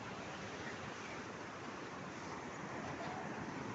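Steady broadband roar of sea surf washing onto a beach, continuous and fairly loud, with no voices.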